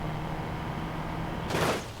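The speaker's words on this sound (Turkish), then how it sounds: "Bak şuraya direkt çarpacağım ben." Car crashing into a wall in BeamNG.drive, a single short burst of crunching impact noise after a steady engine drone, loud and close.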